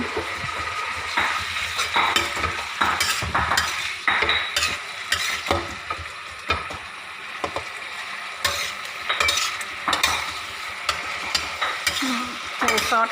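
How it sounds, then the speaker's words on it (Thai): Food being stir-fried with oyster sauce in a pan, a loud, continuous sizzle under busy scraping and clanking of a utensil against the pan, close up, with no voices. "แล้วก็ผัด"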